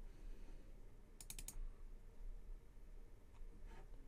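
A computer mouse double-clicks on a ring shape while working in Fusion 360 3D modeling software: a quick cluster of faint, sharp clicks over quiet room hiss.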